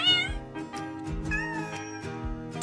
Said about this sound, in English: Hooray! Tabby cat.